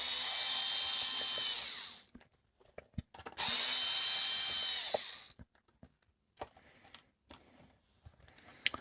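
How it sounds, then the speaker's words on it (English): A powered screwdriver backs screws out of a faulty Morphy Richards soup maker in two steady whirring runs, each about two seconds long. Faint clicks and handling knocks fill the gaps. "See if I can take these off now with the screwdriver"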